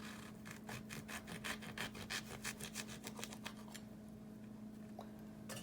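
A knife cuts a lemon into thick slices with quick, rhythmic sawing strokes, quiet and close, set against a steady low hum. The strokes fade out near the end.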